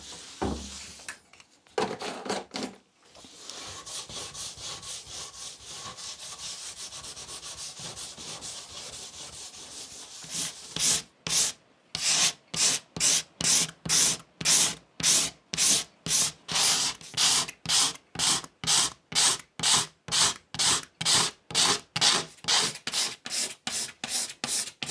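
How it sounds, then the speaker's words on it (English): An electric sander refinishes a grubby wooden surface before oiling, starting with a continuous sanding hiss and then settling into a long run of rhythmic, pulsing back-and-forth strokes, loud and close. "I'm going to clean it back, give it a sand off and refinish it with oil"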